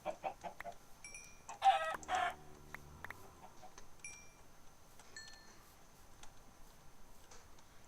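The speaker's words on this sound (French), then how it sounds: "Ah, il y a des poulets par là." Minecraft chickens cluck in short, quiet bursts in the game, with a few chirpy clucks and a low drawn-out call early on, then fading to faint background ambience.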